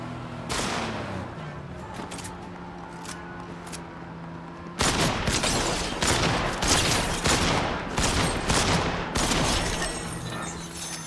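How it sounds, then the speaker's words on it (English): Rapid bursts of shotgun fire in a video game played with a Beitong KP40 controller, loud, close and repeated, with a sharper, denser volley in the second half. "I guess the shotgun worked out that time."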